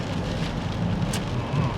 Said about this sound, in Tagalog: pagkatapos nitong ulan na to